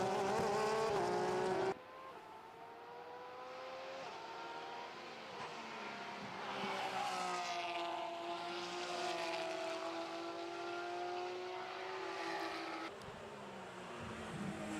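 Porsche race cars scream past during a two-hour endurance race at Monza, high engine notes rising and falling as they pass, one car after another, loud and fairly close, with no talk over them.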